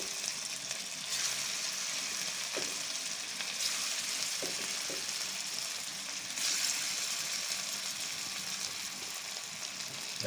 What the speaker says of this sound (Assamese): কঁঠালৰ ফুটকেইটা আৰু আলু সৈতে মই যিখিনি মঠি লৈছিলোঁ সেইখিনি মই এতিয়া ফ্ৰাই কৰি আছোঁ